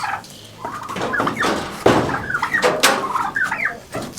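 Young turkeys gobble in several bursts, close and fairly loud, with rattling bird calls overlapping amid light background noise.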